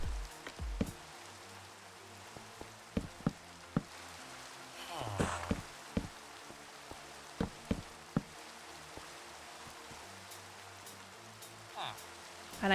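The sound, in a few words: rain in a swamp in a video game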